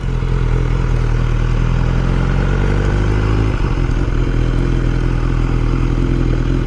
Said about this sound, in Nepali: मजा है यो बाइक चलाउँदाखेरि